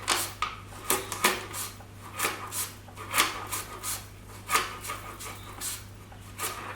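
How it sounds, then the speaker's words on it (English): Gold sweet potatoes sliced on a kitchen mandolin, a rapid series of close, scraping rasps in an irregular rhythm of roughly a dozen strokes, each a short swish of blade through firm root vegetable, with a steady low hum underneath. "2 of these gold sweet potatoes, and on my mandolin I'm just going to slice it up"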